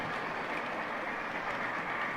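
Model steam locomotive 1225 running on a layout track, a steady close rolling rumble with faint rhythmic wheel clicking, continuous and even, no voices.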